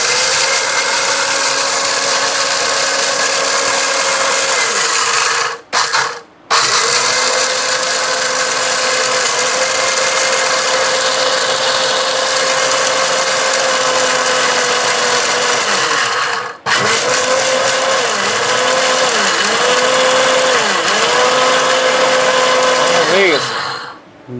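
An Orpat electric blender runs loudly with a steady motor whine, stopping briefly twice with short gaps and then restarting, and its pitch wavers slightly near the end.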